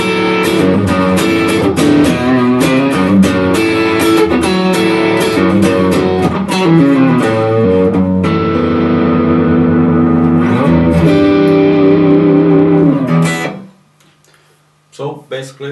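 A PRS 25th Anniversary Swamp Ash Narrowfield Special electric guitar plays a loud, continuous run of chords and riffs with effects and reverb, then stops abruptly near the end, leaving a few faint notes.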